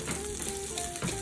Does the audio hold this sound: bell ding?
no